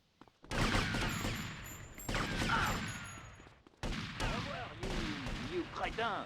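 Gunfire in the video game GTA: Vice City, with loud bursts of shots layered over game voices and background music, running through most of the clip with short breaks.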